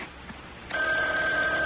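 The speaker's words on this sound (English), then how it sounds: "Oh, it's the phone ringing, Mother." A telephone starts ringing partway through a scene in an old radio mystery drama, a steady electronic ring tone that begins abruptly and holds, fairly loud over faint room noise.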